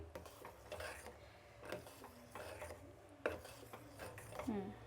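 A spoon stirring milk payasam in a metal pot, giving soft, quiet scraping and clinking strokes in an uneven rhythm over a low background hum, with no talking.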